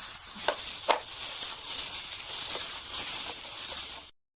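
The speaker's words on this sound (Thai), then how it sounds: "หลังจากนั้นเราก็จะมาคลุกหมู กับเครื่องปรุงให้เป็นส่วนผสมเดียวกันนะคะให้เข้ากันค่ะ" Raw pork being kneaded by hand with seasonings for sun-dried pork makes a quiet, continuous wet squishing, with two sharper squelches near the start, then stops abruptly.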